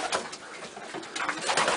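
Pigeons coo softly in a loft, several overlapping throaty calls rising and falling close by, with no voices.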